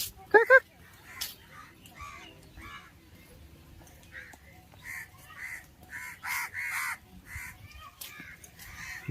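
Crows caw at an outdoor fun park in Jhapa, a few loud harsh calls close up at first, then a run of fainter caws repeating in the distance.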